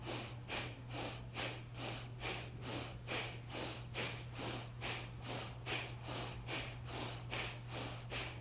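Quick, sharp breaths in and out through the nose repeat in a steady, even rhythm, about two per second, close and clear with no talking.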